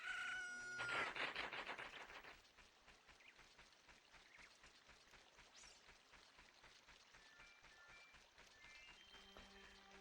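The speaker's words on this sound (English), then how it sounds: "Every time I hear that rooster crow in the morning" Rooster crowing in Zelda: Ocarina of Time Master Quest, one loud, bright cock-a-doodle-doo near the start, then a soft game background with a few faint melodic chimes.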